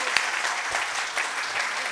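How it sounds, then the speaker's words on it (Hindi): Audience applause at a Hindi poetry gathering (kavi sammelan) in Bareilly: a steady wash of many hands clapping, dense and even for the whole stretch, with a few sharper claps standing out. "मेरे लिए तालियां बजा दो"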